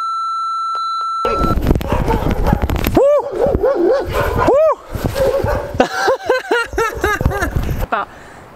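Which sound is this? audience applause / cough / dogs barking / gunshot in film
dogs barking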